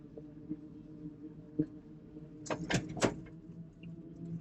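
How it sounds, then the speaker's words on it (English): A car door is shut, giving a few quick thuds and clunks close by after quiet cabin rattles. "I didn't close my door."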